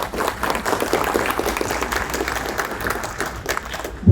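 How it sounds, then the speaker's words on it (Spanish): A room full of people clapping steadily for a few seconds for a speaker at a history lecture, a dense, even applause that holds at the same level throughout. "Un aplauso para ella, por favor."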